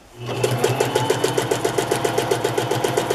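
A sewing machine stitches a small fabric collage onto paper in one continuous close run, its rapid, even needle rhythm and motor whir starting up quickly and staying loud throughout.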